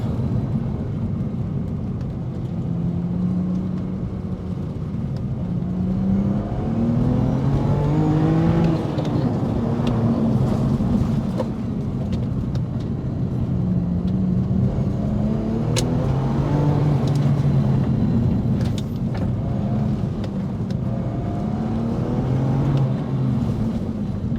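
A BMW M2 Competition's engine revs up and falls back several times in a sustained, moderately loud rising and dropping drone, with no voices over it.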